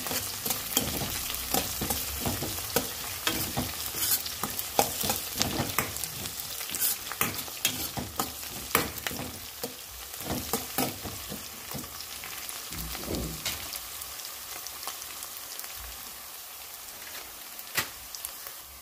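Bisi bele bath spice powder fries in oil in a pan at home, with a steady, crackling sizzle and repeated scraping stirs all the way through, fairly quiet and with no talking.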